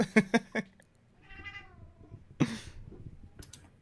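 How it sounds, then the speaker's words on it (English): A cat gives a single drawn-out meow midway through a quiet indoor room, set among a few soft clicks and knocks nearby. "I heard a cat."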